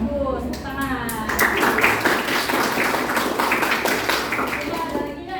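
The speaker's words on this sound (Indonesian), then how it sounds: "bagus, tepuk tangan" Classroom clapping from students in a school counseling lesson, a short burst of scattered hand claps rising and holding steady, mixed with voices talking over it.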